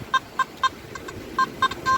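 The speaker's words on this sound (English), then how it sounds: "the phone doesn't like the detector, or the detector doesn't like the phone." Phone interference picked up by a metal detector during an afternoon of detecting, heard as a run of short, evenly spaced electronic beeps, about seven in two seconds with one brief gap, clear over faint outdoor background.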